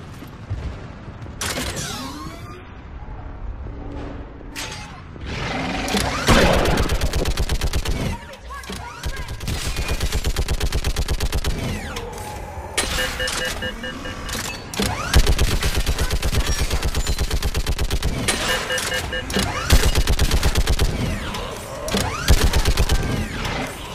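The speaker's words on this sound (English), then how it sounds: "Get on that gun up there and do some damage." Mounted gun firing in the video game Mass Effect 3, a loud, relentless stream of rapid automatic shots rattling for long stretches with brief breaks, mixed with booms and mechanical clatter.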